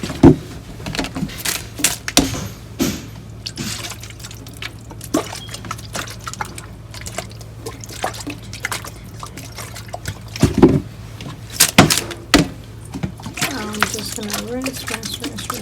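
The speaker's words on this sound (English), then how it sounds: "I just cleaned my shrimps and I'm going to just rinse with some lemon juice." Lemon juice is poured and splashed over freshly cleaned shrimp in a kitchen, giving irregular trickles, drips and wet clatter against a low hum.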